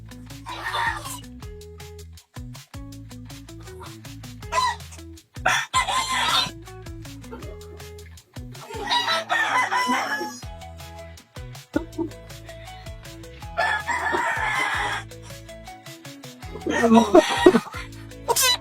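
Lemon brood stags, young gamefowl roosters with straight combs, crow in bursts against a steady tonal background, with calls spread through the clip and a louder crow near the end.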